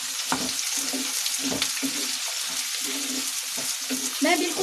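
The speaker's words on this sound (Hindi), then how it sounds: "और अब मैं इसमें ये कटे हुए प्याज डाल दूंगी।" Chopped onions frying in a pan with cumin seeds and cloves for paneer angara, a dense crackling sizzle with regular scraping strokes of a spoon stirring, close and continuous, without talk.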